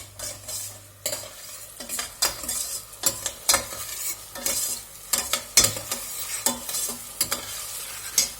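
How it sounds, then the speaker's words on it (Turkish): Onions sautéing in a pan for a Turkish soup, a soft steady sizzle broken by frequent scraping and tapping strokes of a spoon against the pan, close and without speech. "Arkadaşlar soğanımı kavuruyorum."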